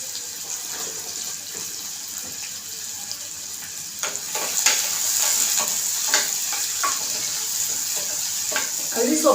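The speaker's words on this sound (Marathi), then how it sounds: "तर आपल्याला परतून घ्यायचा आहे।" Onion sautéing in a pan for a soyabean pulao, a steady close sizzle with stirring scrapes that grows a little louder midway, no voices.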